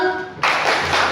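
A classroom of students breaks into a burst of applause, many hands clapping together loudly and close by, starting abruptly after a brief quiet lead-in.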